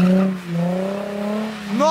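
Car revving and accelerating hard while drifting, engine tone rising and sweeping in pitch over about two seconds, loud and close, with a voice shouting over it.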